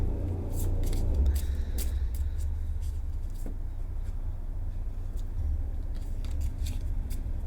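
Crisp, rapid riffling and flicking of cards comes in repeated bursts over a steady low background hum.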